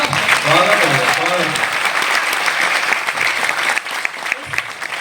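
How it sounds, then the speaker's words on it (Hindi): A poetry recital audience at a kavi sammelan breaks into loud, sustained applause that fills the hall, with a voice audible over the clapping early on before the sound thins slightly toward the end. "सारा सदन उसको तालियां बजाकर बताएं।"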